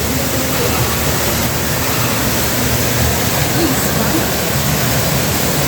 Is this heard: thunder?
no